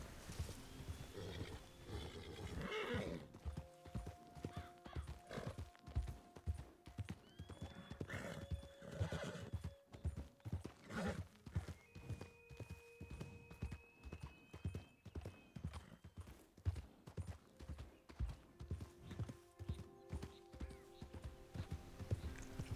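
Horse hooves clip-clop in a steady, continuous rhythm in the Red Dead Online video game, punctuated by loud whinnies and snorts from the stressed animal.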